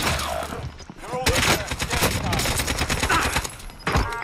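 Rapid bursts of automatic gunfire in Call of Duty Warzone, loud and close, with several clustered volleys broken by short pauses and a player's voice talking over the shots.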